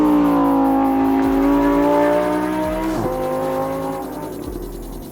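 2020 Lamborghini Huracan Evo at speed on a track, its engine howling loudly and climbing in pitch, then dropping with a gear change before fading as the car pulls away.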